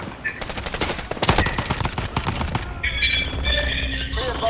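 Rapid automatic gunfire from the video game Call of Duty: Modern Warfare crackles in loud, dense bursts for a couple of seconds, then gives way to quieter in-game tones and mechanical clatter.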